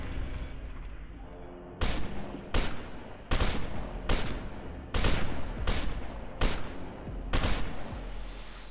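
Gunfire from the video game F.E.A.R. 2 rings out as roughly eight loud, booming shots at fairly regular intervals of under a second. Each blast rises sharply from a low background and carries a long, echoing tail.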